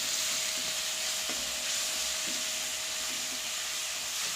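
Onion, tomato and drumstick leaves sauté in a pan for soup, a steady soft sizzle and hiss with a faint tone running through and a few gentle stirring knocks, close and without talk.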